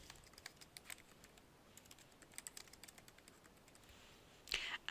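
Typing on a computer keyboard to write a diary entry in reflective diary software, a quiet run of irregular key taps at a steady pace, then a louder clatter of presses at the end.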